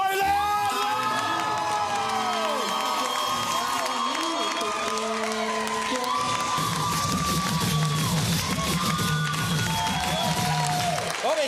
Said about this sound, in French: S'il vous plaît, on accueille très, très fort Matthew Boylan!